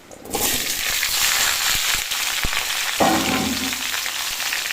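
Pumpkin pieces drop into hot oil with cumin seeds in a kadai, setting off a sudden loud sizzle that settles into a steady, close, hissing fry with a few soft clinks and stirs.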